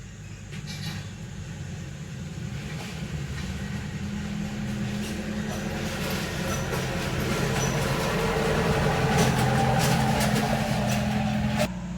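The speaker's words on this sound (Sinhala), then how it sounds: "ඒකත් එක්ක වාහනයක් සද්ද හොඳට ඇහෙනවා" A vehicle passes on a road right beside a backyard fish pond in Sri Lanka, a steady rumbling drone that swells gradually louder and stays close throughout, with no talking.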